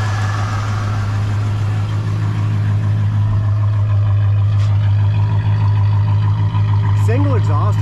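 The original 350 V8 engine of a 1972 Pontiac Lemans Sport with single exhaust idles with a deep, steady rumble close by, while a person talks over it.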